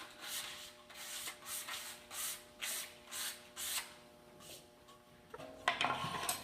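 Wooden keepsake box parts being sanded by hand: about eight steady back-and-forth rubbing strokes in an even rhythm, close and fairly quiet, ending with a brief clatter of handling.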